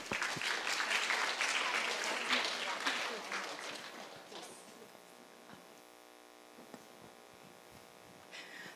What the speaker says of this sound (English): So please give big applause